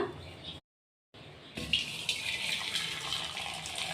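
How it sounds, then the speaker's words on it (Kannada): Water poured off boiled lentils in a home kitchen, a soft gushing stream that starts after a brief dropout and runs on faintly to the end. "ಬೇಳೆ ಒಳಗಿರೋ ನೀರೆಲ್ಲ ತೆಗ್ದುಬಿಟ್ಟಿದ್ದೀನಿ"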